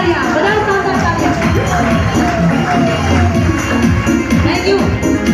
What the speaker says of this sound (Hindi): बजाओ अपने लिए शानदार तालियां, बजाओ शानदार तालियां।